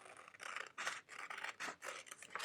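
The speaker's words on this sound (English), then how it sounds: "So I'm going to cut out that A1 piece." Scissors cut out a paper piecing pattern piece for a quilt block, making repeated close crisp snips and papery rasps in an uneven rhythm, quiet and with no talk.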